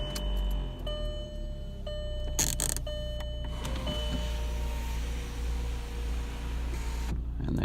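Volkswagen Jetta MK4 interior as the car is switched on and the electric sunroof opens, with a few short chimes and clicks first, then a steady motor whir running for several seconds before stopping.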